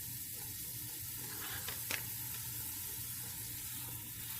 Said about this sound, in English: So I'm going to brown this up